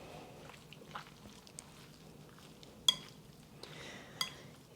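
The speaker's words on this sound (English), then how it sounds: "And we're just going to stir this up" A spoon stirs a small bowl of soy sauce and dry sherry for a Chinese takeout-style dish. Soft, sparse clinks of metal on the dish sound close by in a quiet kitchen.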